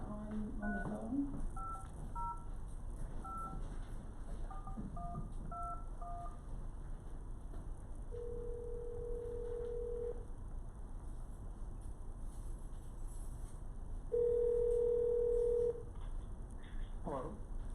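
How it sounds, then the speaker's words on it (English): A telephone dials out during a landmarks commission meeting, a run of short DTMF keypad beeps followed by two long steady ringback tones, heard over faint room noise. "and Paula will try to get Eric on the phone."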